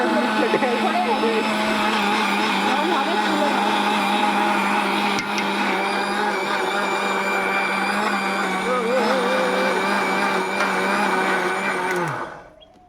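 An electric mixer grinder grinding lentils runs as a loud, steady motor whine with a whirring, gritty churn for about twelve seconds, then winds down and cuts out at the end.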